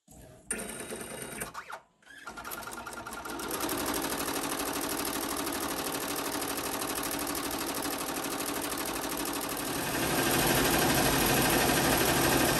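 A Happy Japan HCU home embroidery machine stitches a jacket on a slow setting, giving a steady, close, rapid mechanical chatter that starts after a brief pause and grows slightly louder near the end, with a voice speaking over it.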